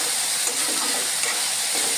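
Cluster beans and potato curry with jaggery and fresh grated coconut stirred in a hot pan, giving a steady, even hiss of sautéing that holds at one level throughout with no voices.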